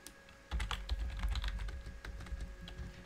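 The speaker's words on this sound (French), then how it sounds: "J'espère que vous n'entendez pas trop fort mon clavier parce que je sais que ça peut être chiant." Quick, irregular clatter of keys being typed on a computer keyboard, close and moderately quiet, starting after a brief pause and continuing steadily with no talk.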